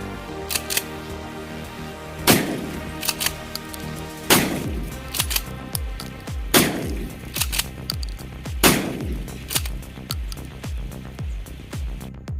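A 12 bore pump-action shotgun being test fired: four loud, sharp blasts spaced about two seconds apart, each with a ringing tail, plus smaller mechanical clicks between them and no talking.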